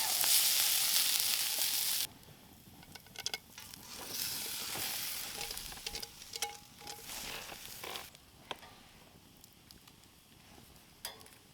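Onions, pork chop and bacon sizzle and crackle in a pan over a campfire at a winter camp on a frozen lake, a steady close fry with scattered pops and spits.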